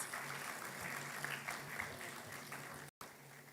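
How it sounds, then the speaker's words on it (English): Conference audience at a university event applauding award winners, a faint, distant, steady patter of clapping that cuts out briefly near the end. "Please give them a warm round of applause."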